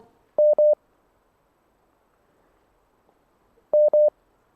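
Two short bursts of telephone keypad dialing tones on a radio call-in quiz line, each a quick run of three or four beeps, with a long quiet gap between them and no voices.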